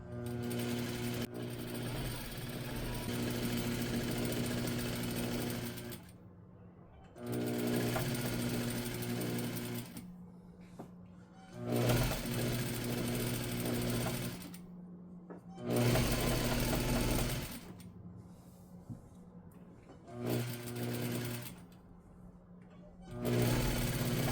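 A sewing machine stitches the hem of a comfy dress in several sustained runs, each a few seconds long, with a steady motor hum and brief pauses between bursts. No voices.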